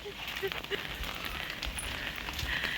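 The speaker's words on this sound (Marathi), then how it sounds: "आता हा छान छान पाऊस पडायला लागला आहे" Light rain begins to fall outdoors, a steady soft hiss and patter that runs throughout, with a few faint voices underneath.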